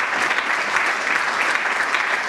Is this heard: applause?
yes